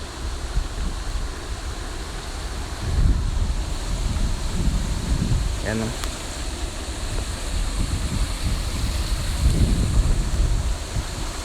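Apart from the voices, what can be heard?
rushing floodwater overflowing rice field during storm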